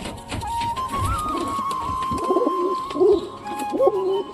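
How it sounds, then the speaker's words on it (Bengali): Young pigeon chicks call from a loft or coop in short, repeated wavering cooing sounds, close by and moderately loud over a faint mechanical hum. "বাচ্চাগুলো সবগুলোই ডাকতেছে"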